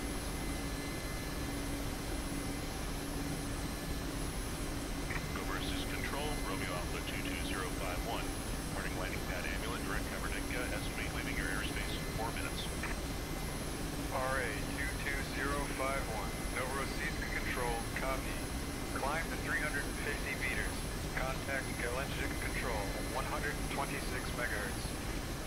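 A Mi-8 helicopter in the DCS flight simulator drones with steady engine and rotor noise throughout, a constant loud hum with a whining tone, while crew voices talk over it.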